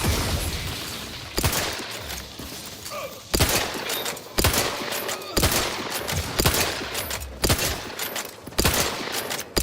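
Game weapon fire aimed at a shielded robot in The Outer Worlds 2: loud, sharp shots and short bursts arrive in spaced volleys, with heavy thuds and crackling impacts between them.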